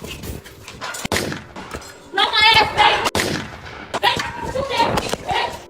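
A few sharp, isolated gunshot bangs at an apartment complex, spaced a second or so apart, cutting through agitated, overlapping voices.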